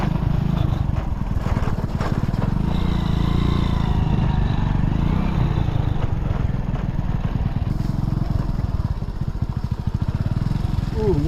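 A motorcycle engine putters and chugs close by with a fast rhythmic beat, running continuously while people talk over it on a muddy track in the Amazon.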